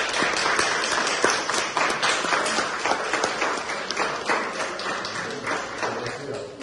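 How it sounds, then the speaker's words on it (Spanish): A roomful of people applaud a newly turned centenarian woman in Villarino, a dense, steady clapping that stays loud throughout with a few brief voices underneath. "pido un aplauso para ella"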